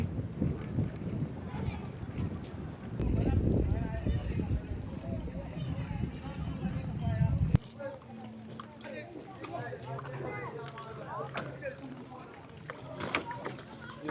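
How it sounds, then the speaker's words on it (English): A ferry engine drones low and steady on a river crossing in The Gambia, mixed with wind buffeting the microphone and water noise, while someone talks over it close by. "Just boarded the ferry and I'm not too sure if you can hear me or if you can only hear the engine"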